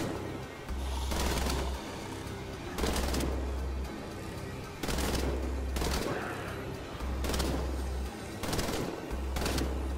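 Bursts of gunfire from the video game Wolfenstein: The Old Blood, about five loud repeated volleys spaced roughly two seconds apart, each with a heavy low thump and a crackling rattle.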